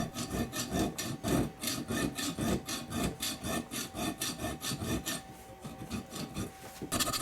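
Hand sawing unsecured half-inch bar stock to cut it into roughly equal lengths, close rhythmic rasping back-and-forth strokes, steady and repeated, about two to three strokes per second throughout.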